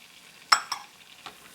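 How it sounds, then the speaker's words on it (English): Red and white onions hitting hot butter in a pan make two sharp sizzling bursts in quick succession and then a softer third, with near silence between them. "I'm going to throw in the onions now. Jack always used a combination of red onion and white onion."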